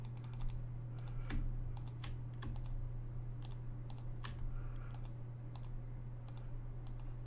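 Computer keyboard keys and mouse buttons click in quick irregular bursts during Minecraft play, close and fairly quiet over a steady low electrical hum.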